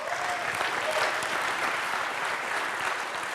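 A large live audience at a WWDC talk show applauds the Files app announcement, a dense, continuous roar of clapping from a packed room with no individual claps distinct, steady throughout.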